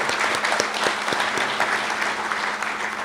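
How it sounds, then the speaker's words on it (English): An audience at the Brenthurst Foundation launch of the book Expensive Poverty claps steadily for about three seconds, a dense, close round of applause with a few sharp individual claps standing out and no talk. "Shall we give one more round of applause?"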